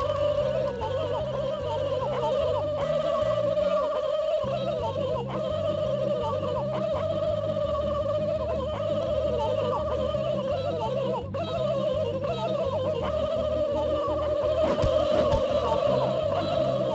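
Video game turkeys gobble continuously, layered repeating gobbles in a steady loud chorus over a looping game soundtrack, with no talk.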